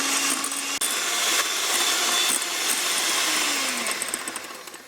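Egg whites and sugar for a lemon meringue tart being beaten firm, a close, loud, steady whirring churn that runs continuously with slight swells and fades near the end, with no talking.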